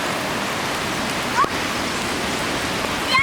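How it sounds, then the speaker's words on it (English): Torrential hurricane rain in South Carolina pours down in a dense, steady hiss, loud and close, with a faint short voice sound briefly over the downpour. "now it's like a torrential downpour"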